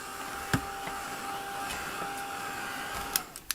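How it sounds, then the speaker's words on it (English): A heat gun blows with a steady whir and a faint tonal hum, holding evenly throughout, broken by a few sharp clicks and taps, close to the microphone. "So I have my heat gun here."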